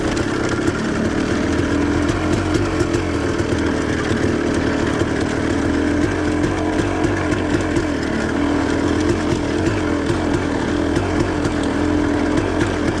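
Two-stroke KTM 300 dirt bike engine labouring on a steep off-road hill climb, a loud, continuous buzzing drone that holds steady throughout with no pauses and no voices.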